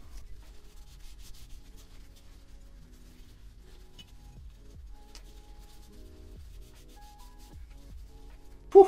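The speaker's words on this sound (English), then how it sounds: "Get you a microfiber towel. Don't forget to get a little bit of elbow grease in there, man. Rub all that oil off." A microfiber towel rubs oil and wax off the sandblasted metal of a rig, making faint, soft, continuous scrubbing strokes close by with no talk.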